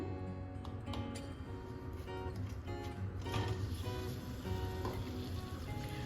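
Dates fry in hot ghee, a steady close sizzle and crackle running continuously for several seconds, with a few light clinks of stirring and no talking.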